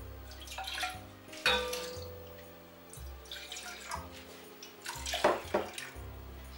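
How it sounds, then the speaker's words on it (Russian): Water splashes and gurgles into a pot of black rice in a few uneven pours, with drips and light clinks in between, fairly quiet and close. "Заливаем водичкой"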